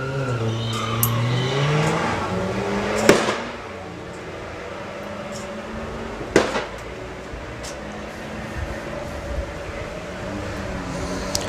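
A street car runs at an Ultimate Street Car race track event, its engine whining and shifting pitch in a long pass, with two sharp bangs cutting through the steady background noise.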